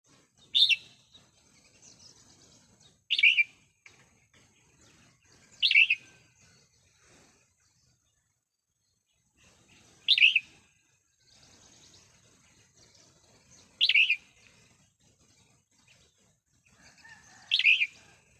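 Wild birds give six short, sharp chirping calls, spaced two to four seconds apart and clear against an otherwise quiet background.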